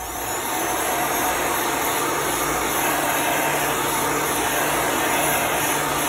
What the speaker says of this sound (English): I'm going to dry it with a heat gun.